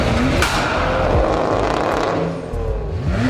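Loud, close engine roar from a Nissan Skyline R34 GTR's RB26 engine, a dense sustained rumble with brief pitch shifts, heard alone without speech.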